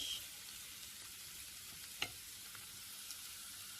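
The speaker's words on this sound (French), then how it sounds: "Et je vais ensuite ajouter l'ail haché." Minced garlic sizzles in a frying pan, a steady faint hiss lasting throughout with one brief sharp tap midway; no voices.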